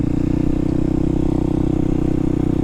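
A motorcycle engine runs at a steady, low, throbbing pitch as the rider slowly lets the clutch out to pull away, close and continuous, with no voices.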